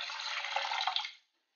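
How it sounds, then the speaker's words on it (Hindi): Water from a cup poured onto a cup of sugar in a pan to start a cardamom-saffron sugar syrup for malpua, a steady splashing pour lasting about a second before stopping abruptly, close and alone. "अब 1 कप ही इसमें मैं पानी ऐड कर दूंगी,"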